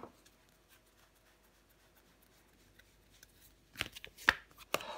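Playing cards, including the ace of batons, being laid down and covered on a table: a few quick, close card slaps and rustles come near the end, after a long quiet stretch.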